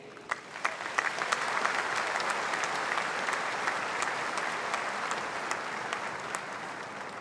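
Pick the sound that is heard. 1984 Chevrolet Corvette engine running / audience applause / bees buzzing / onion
audience applause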